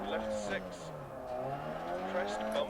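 A rally car in the video game DiRT Rally drives on gravel, its engine droning and shifting pitch steadily while someone talks over it.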